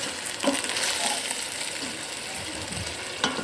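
Chicken with whole garam masala frying in oil for chicken korma, a close, steady sizzle broken by occasional spoon clinks and scrapes, with no voices.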